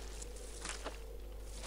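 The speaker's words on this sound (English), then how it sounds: "Is it just my footsteps?" Footsteps in the survival video game UnReal World, a few soft crunching steps over a steady noisy background, fairly close but not loud, with no voices.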